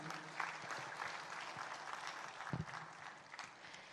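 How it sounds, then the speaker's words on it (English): An audience applauds award winners at a dairy industry conference. Continuous, moderately faint clapping from a large crowd runs throughout with no speech over it. "Can we hear a huge round of applause for all the award winners, please?"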